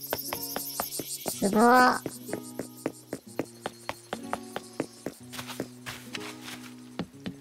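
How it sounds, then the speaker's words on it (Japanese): Cicadas in the Animal Crossing video game make a thin, high, continuous drone with a brief chirping burst, heard alongside regular soft game footsteps and a short spoken exclamation. "セミがたくさんいる。"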